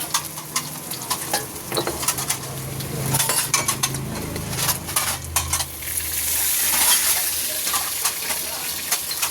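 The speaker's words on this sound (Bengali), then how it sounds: "এই দেখুন আদাটা আমি ভেজে নিলাম" Ginger fries in hot oil in a pan, giving a continuous crackling sizzle with rapid pops and spatters, plus scraping and clinking from a utensil stirring close by.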